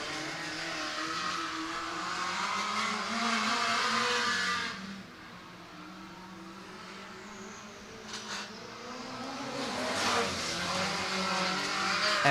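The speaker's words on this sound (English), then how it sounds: "green flags in the air on the King Chassis D2 Midget Heat Race" King Chassis D2 midget race cars roar around a dirt speedway oval at Coles County Speedway during a heat race, engines loud and sustained, dipping briefly as the pack passes away, then swelling again as the cars come back around.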